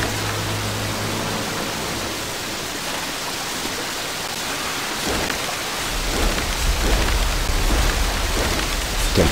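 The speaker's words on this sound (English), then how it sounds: "Here comes the rain!" Steady rain pours down with rumbling thunder in the Hard Rain campaign of Left 4 Dead 2, a dense continuous wash that swells louder with a deep low roll in the final few seconds.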